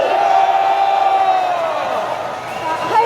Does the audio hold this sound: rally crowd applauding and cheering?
yes